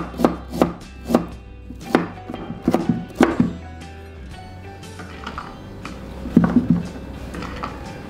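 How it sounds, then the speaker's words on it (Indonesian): Firm knife chops through ginger on a board, a handful of distinct thuds spaced irregularly, then a few softer cuts, close and clear with no talking. "Jahe dipotong-potong."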